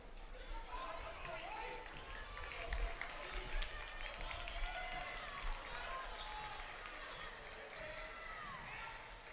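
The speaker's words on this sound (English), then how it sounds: "you could just hear the crowd anticipating, waiting for that first basket" Crowd at a varsity high school basketball game, Appleton East versus Neenah, waiting for the first basket: a steady murmur of many voices with scattered shouts and shoe squeaks, continuous and fairly full throughout.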